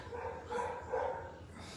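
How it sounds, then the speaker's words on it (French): A dog barks twice in quick succession, fairly near, against a steady background hum. "Il y a un chien qui embête le monde."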